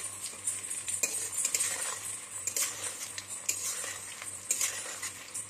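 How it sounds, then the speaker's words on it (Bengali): Modak dumplings frying in ghee are stirred gently with a metal spoon in a village kitchen. Close, continuous scraping and clinking against the pan sounds over a soft frying hiss. "এটাকে একটু আস্তে আস্তে নাড়তে হবে, নাহলে ভেঙে যাওয়ার ভয় থাকে।"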